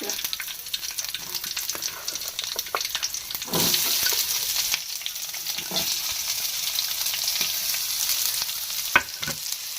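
Green chillies and onions fry in a pan with a steady, moderate sizzle, broken by occasional scraping stir strokes, with no talking.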